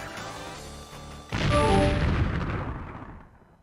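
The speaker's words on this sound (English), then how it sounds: "You are highly startled by the totally unexpected explosion." A sudden loud explosion in a Homestuck animation bursts in after a quieter stretch, a heavy boom with rumbling debris that slowly decays over a few seconds.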